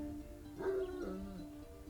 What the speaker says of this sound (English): The guard's got a massive dog to help him.